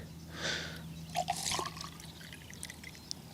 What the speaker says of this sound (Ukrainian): Заливаємо водичку в ліквід, все по класиці.